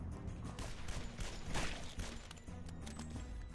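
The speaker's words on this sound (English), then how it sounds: "Get this guy with a shotgun." Shotgun blasts and gunfire ring out in a first-person shooter game, several sharp loud bursts over dense, busy game noise with no talking.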